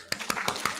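An audience claps in an indoor gathering for International Women's Day, giving four evenly spaced, crisp claps in quick succession at moderate loudness, with no talking over them.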